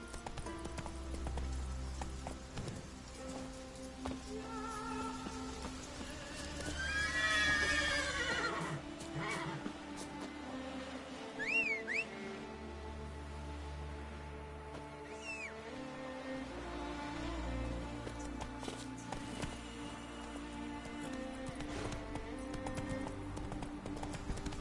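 Roach, a horse in The Witcher 3 game, gives a loud whinny amid rhythmic hoofbeats galloping steadily, with a softer neigh later and game music beneath.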